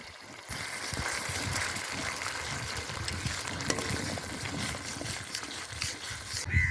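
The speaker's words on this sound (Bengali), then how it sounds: "জল দিয়ে দিলাম বন্ধুরা বেশি দেবো না" Water poured into a pan of ground poppy seed paste with black cumin and green chillies, a steady close trickle and gush running for several seconds with a faint bubbling simmer underneath.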